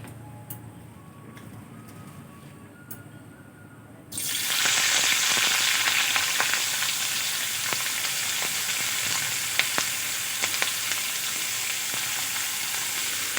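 Onions and green chillies hit hot oil for an egg, okra and potato dish; a quiet stretch gives way to a loud, steady sizzle that keeps going, with occasional clicks of stirring and no speech.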